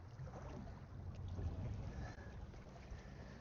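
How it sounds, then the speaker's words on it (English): The charter fishing boat Anglo Dawn drones at a distance, a steady low engine rumble under wind and open-sea noise as heard from a small boat at a wreck. "The boat noise you can probably hear behind me is the Anglo Dawn"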